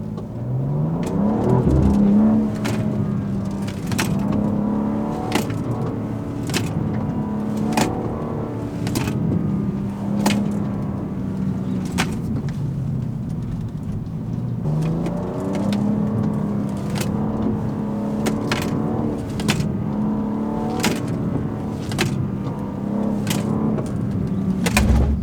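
A car runs a slalom course on Bridgestone street tires, its engine loud and steady, rising and falling through throttle changes, with repeated sharp clicks and chirps across the run and no talking.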